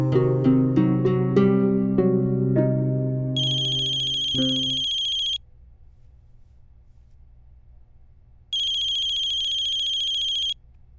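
A phone ringtone plays a bright melodic jingle, followed by two sustained bursts of electronic ringing separated by a quiet gap, loud and close with no talk over it.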